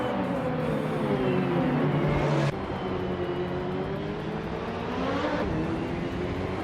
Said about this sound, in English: Nonstop 202 is driving a Porsche 944 Turbo from 1988